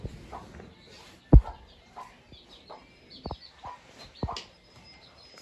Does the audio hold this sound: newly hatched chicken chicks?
yes